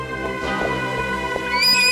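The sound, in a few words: horse neighing and galloping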